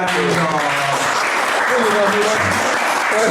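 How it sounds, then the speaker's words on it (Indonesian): Audience applause greets guest Katon Setiawan at a podcast taping, a loud, dense, continuous patter of many hands with talk running over it. "Tepuk tangan dong"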